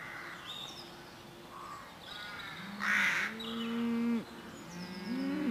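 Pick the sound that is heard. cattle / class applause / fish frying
cattle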